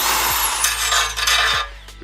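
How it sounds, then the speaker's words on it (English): Spot weld sander grinding out spot welds on a wrecked 2016 Honda Accord's framework, a loud, steady abrasive rasp close up that runs continuously before cutting off near the end. "This is a spot weld sander, I guess. Basically you go right up against the spot weld and it"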